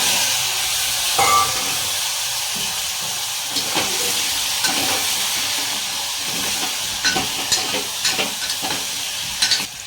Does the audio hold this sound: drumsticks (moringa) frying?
yes